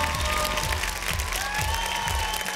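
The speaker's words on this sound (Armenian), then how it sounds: "ավելի բարձր ծափահարենք" Applause from a television talent-show audience at an Armenian X-Factor gala, a steady wash of clapping that holds at full level throughout, with music and crowd noise mixed underneath.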